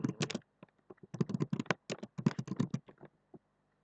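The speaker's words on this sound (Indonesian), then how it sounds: "ini kita bisa ketik, setelah kita mau ketik apa, bisa ketik aja" Fingers type on a computer keyboard in short, quick bursts of close, quiet key clicks separated by brief pauses, with no voices.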